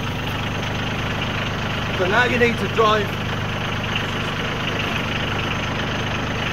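A Branson tractor with a quick-release backhoe idles in a steady low rumble, close and constant, while someone speaks briefly over it partway through.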